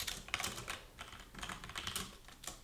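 Fingers type on a computer keyboard while entering Go source code, a steady run of quick, close, fairly soft key clicks with no voice over them.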